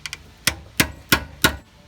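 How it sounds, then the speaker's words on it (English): A hammer taps a center punch into metal to mark a drilling spot: two quick light taps followed by four sharp, evenly spaced strikes, close and clear. "take a punch and a hammer and tap a little center punch where you're going to want to put the drill"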